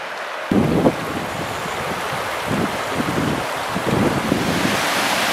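River water rushing at a ford on the Smith River in a wilderness canyon, a broad, steady roaring wash with gusty rumbles of wind on the microphone, continuous and fairly close.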